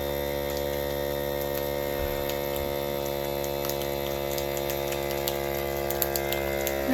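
A vacuum sealer runs while sealing a homemade MRE bag, giving a steady electrical hum and motor drone with faint ticking and clicking over it.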